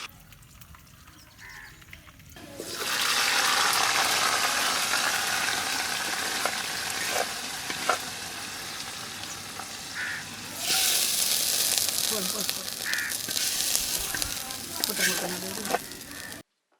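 Loud, steady sizzling of mustard seeds, curry leaves and coriander frying in hot oil for a mutton curry, starting after a quiet moment and continuing with crackles and faint background voices.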